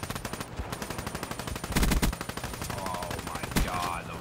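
Rapid machine-gun style bursts from an SMG in a first-person shooter game, a steady stream of loud close shots with a couple of heavier impacts, while a player talks over the gunfire.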